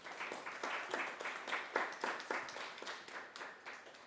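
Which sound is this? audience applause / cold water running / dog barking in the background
audience applause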